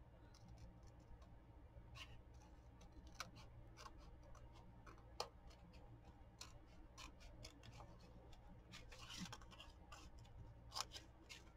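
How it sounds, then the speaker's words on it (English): Scissors cut paper along the fold of an envelope, a quiet run of quick snipping ticks in an uneven rhythm, close but faint over a low background hum. "try to cut as much on that fold as I can"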